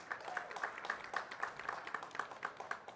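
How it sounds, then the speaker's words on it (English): Faint, rather distant applause at a Miss World press conference in Delhi, India, with light clapping that shows a regular, rhythmic pulse and stays quiet throughout. "Can we have a huge round of applause for them"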